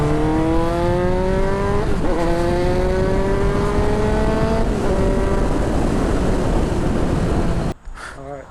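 Kawasaki Z900 motorcycle engine revving hard while riding, pitch climbing through a quick gear change and continuing to rise under wind rush, loud and close before cutting off sharply near the end.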